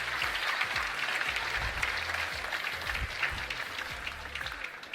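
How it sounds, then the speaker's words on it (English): Audience applause at a live stage magic show, sustained dense clapping from a sizeable crowd that fills the room evenly and stays strong for several seconds. "give her a big round of applause"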